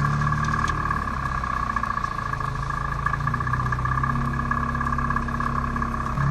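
A Ligier JS60 Ultimate microcar, a 2021 model, turning through a U-turn, its small engine droning steadily from inside the cabin with a shifting low note as it manoeuvres.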